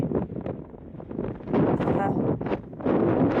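Gusty wind buffets the microphone on an exposed mountain peak trail, rising and falling in rough surges and growing stronger toward the end, loud and close with bursts of rumble.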